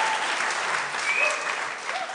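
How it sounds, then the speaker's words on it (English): Audience applause after a choir performance, a steady, dense wash of clapping from a crowd that stays loud throughout with a few whoops and cheers mixed in. "another round of applause, ladies and gentlemen."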